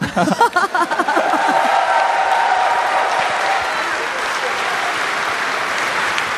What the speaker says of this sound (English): And please give another round of applause.